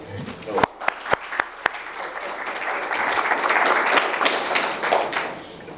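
A few sharp claps ring out, then a crowd breaks into steady, full applause that swells and carries on.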